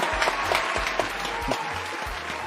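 An audience claps steadily, a dense wash of applause throughout, with a few louder claps standing out near the front.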